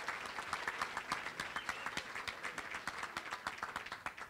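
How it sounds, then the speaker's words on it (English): Audience applause at a special meeting of New York Democrats, a dense, steady patter of many hands clapping with no voices, sustained at even volume for several seconds. "First, to Sheila Komar, let's give her a big round of applause for all the great work she's done."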